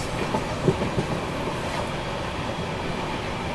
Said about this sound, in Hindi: और ये बगल से क्रॉस हो रही है झेलम एक्सप्रेस।